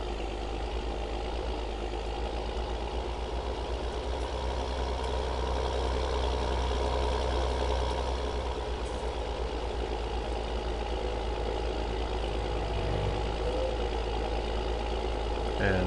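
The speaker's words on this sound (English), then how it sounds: "And here's the New Holland. She's a pretty sweet looking tractor too." New Holland tractor engine running, a steady low diesel rumble at close range that continues evenly throughout, with no voices over it.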